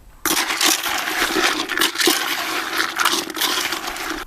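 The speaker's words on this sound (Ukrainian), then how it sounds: "Все, і цей допінг виливаємо сюди." Liquid fishing bait additive pours into a groundbait mix at a lakeside fishing spot, a steady, close splashing gush lasting about four seconds after a brief quiet start.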